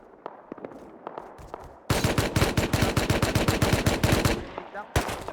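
Rapid automatic gunfire from an AK in the survival game Rust during a raid, loud and close, bursting into a long continuous stream of shots after scattered single cracks, then a short final burst.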